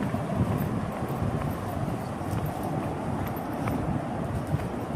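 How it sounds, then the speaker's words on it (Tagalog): Strong wind buffets and rumbles continuously, a loud blustery roar with no talking. "Mahangin na dito at medyo pababa na."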